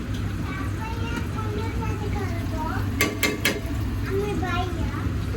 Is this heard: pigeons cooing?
no